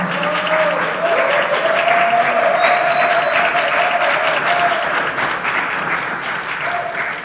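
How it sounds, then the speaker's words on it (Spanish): A seated audience claps steadily for a book's author at an evening event, a dense, even roar of hands lasting about seven seconds, with a faint whistle-like tone drifting through the middle. "Un aplauso, por favor."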